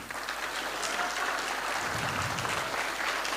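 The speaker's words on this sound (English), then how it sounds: "Round of applause for the winner." A crowd applauds the winner of the Dustin Hyatt vs Thomas Manghi 75kg East vs West 9 supermatch, with steady sustained clapping filling the room throughout, moderately loud and without talk.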